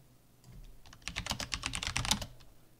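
Fast typing on a computer keyboard while logging into a Raspberry Pi, a quick run of close key clicks lasting about a second and a half.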